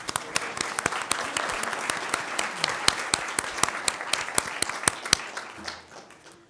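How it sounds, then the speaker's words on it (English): A school board meeting audience applauds after a color guard presentation, a modest scattering of distinct claps, fairly close and sparse, thinning out and fading toward the end. "Let's give them a round of applause."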